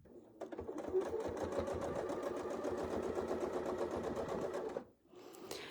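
Sew Steady sewing machine stitching apple core quilt pieces, a fast, even mechanical chatter running steadily for several seconds, then stopping abruptly near the end.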